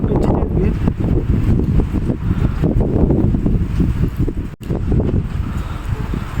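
Strong wind roars and gusts without pause through heavy rain in Nancy, France, a loud, dense rush that buffets the microphone and briefly drops out near the end, with no talk over it.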